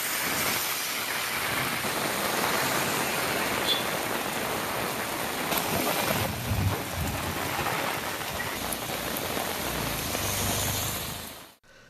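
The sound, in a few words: heavy rain falling in Tiruvallur area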